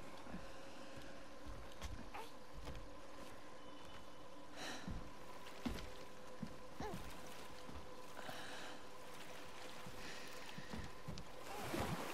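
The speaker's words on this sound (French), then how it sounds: "Tu apprécies ces douces vagues, petit homme? Ton père et moi traversons souvent cette rivière." Gentle river waves wash against a boat crossing a river in the God of War Ragnarok video game, a soft steady water lapping with scattered low knocks and creaks.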